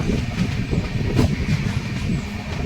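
A steady low rumble of a long-distance train from Kannur to Mumbai rolling along the tracks, with faint rhythmic clatter from the wheels and no voices.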